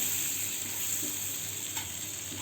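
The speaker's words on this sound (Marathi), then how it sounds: "हे मिश्रण एक ते दोन मिनटं फ्राय करून घ्या" Steady, fairly loud hiss and sizzle of chili, garlic and cumin frying in butter in a pan for thecha paratha, with no talk over it.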